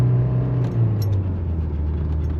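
Mercedes 240D diesel car driving at half throttle, a loud, steady low diesel drone from inside the cabin with a slight dip in pitch, and no talking.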